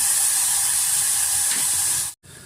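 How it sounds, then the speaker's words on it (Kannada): Chopped tomatoes fry in a hot pan for a vegetable curry, giving a loud, steady sizzle that runs nearly unbroken. A brief cut of silence falls near the end before the sizzling resumes. "ಟೊಮೆಟೊ ಚೆನ್ನಾಗಿ ಫ್ರೈ ಆಗಿ ಮತ್ತು ಸಾಫ್ಟ್ ಆಗಬೇಕು"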